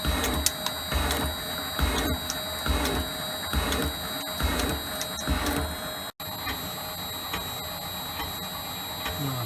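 Elliot 14S machine tool cutting metal at 100 thou depth of cut and 10 thou step over, a steady grinding mechanical drone with faint irregular ticks and knocks, heard at moderate distance without talk.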